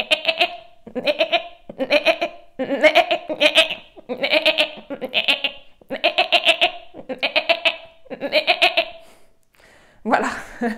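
A person imitates a goat bleating during a body exercise, voicing a long string of rhythmic, quavering "meh" bleats in repeated bursts with short pauses, close and clear in a room.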